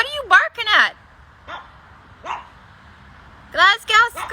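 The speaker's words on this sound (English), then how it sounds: "Pepper, what are you barking at?" A dog barks indoors in short bursts: a quick cluster of yips early, two lone single barks in the middle, then another pair near the end, loud and close.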